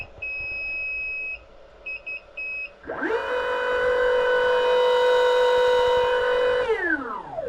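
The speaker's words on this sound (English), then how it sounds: "I wonder if it just beeps to let you know that it's on." An electric cyber bike sounds short electronic beeps as it switches on, followed by a loud, steady whine from the motor that rises, holds, then winds down.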